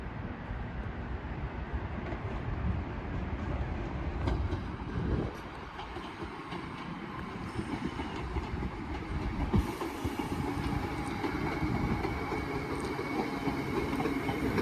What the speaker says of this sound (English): Train now terminating on platform 6 is a 323 that came from Liverpool Lime Street